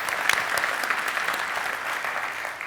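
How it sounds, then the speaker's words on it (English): Conference audience applauding steadily at a travel industry event, a dense, even patter of many hands clapping close by for the full stretch, with no talk over it. "give him a round of applause"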